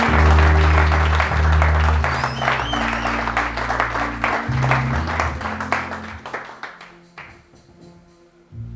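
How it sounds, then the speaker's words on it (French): A church congregation applauding loudly and steadily, with strong rhythmic clapping from many hands and crowd noise; music plays beneath, and the applause fades and thins toward the end. "Qui peut acclamer le Seigneur de grâce."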